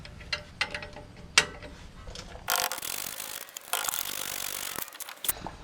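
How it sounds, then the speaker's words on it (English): Ratchet wrench loosening the 13/16 caliper bracket bolts on the rear brakes of a 2nd-gen Dodge Ram 2500 24v Cummins, heard as scattered clicks and bursts of ratcheting and metal rasping, close and moderately loud, with no talking. "It is a 13/16, and you just take these two bolts out right here."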